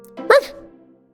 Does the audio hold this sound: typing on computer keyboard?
no